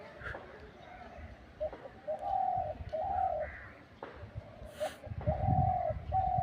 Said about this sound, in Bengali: তারপরও দেখেন পাখিটা একদম রোদ্রে উঠাইছে,